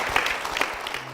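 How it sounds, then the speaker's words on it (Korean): An audience in a church applauds briefly, a short patter of scattered claps at moderate level with no speech over it. "축복의 박수 부탁드립니다."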